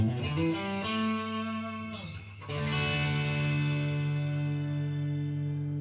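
A sustained electric guitar chord drenched in shimmer reverb from a Valeton GP-200 multi-effects unit rings out with an airy wash of high overtones, briefly dipping before swelling back up.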